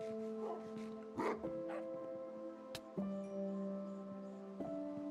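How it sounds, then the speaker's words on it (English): A dog gives a few yips and whimpering whines over a steady, droning hum of background music, the cries close but fairly soft. "Sorry, dog, move."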